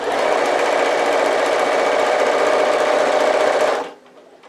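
A sewing machine runs steadily through the last seam of a tote bag, a loud, continuous mechanical whir with no pauses that cuts off abruptly near the end, leaving near silence.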